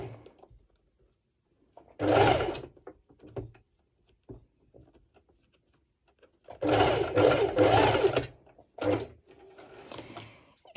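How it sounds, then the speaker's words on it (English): A sewing machine runs a straight stitch through fabric for an underwire ruched top, in short whirring bursts of mechanical clatter separated by quiet pauses and small clicks, heard close up. "If your sewing machine does not do well with sewing over thicker parts of fabric"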